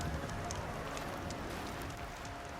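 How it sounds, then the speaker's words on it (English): Steady rain falling in the Horizon Zero Dawn video game, a continuous broadband hiss with soft drop patter that holds level throughout, with no talk over it. "And there's the rain."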